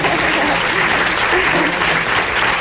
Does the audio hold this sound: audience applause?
yes